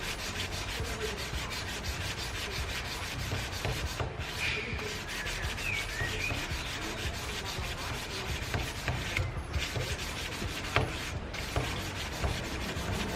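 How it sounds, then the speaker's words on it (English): Sandpaper rubs by hand along a Damascus steel knife blade in steady back-and-forth strokes, a close, quiet scratchy rasp repeating continuously without talk. "So the knife is hand sanded on this side."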